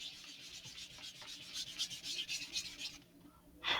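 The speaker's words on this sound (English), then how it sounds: "just sand any of the nastiness off of this." A sheet of thick Estes balsa wood being sanded for a Great Goblin model rocket build, a steady close rasping scrub with rhythmic strokes that stops briefly near the end before one more pass.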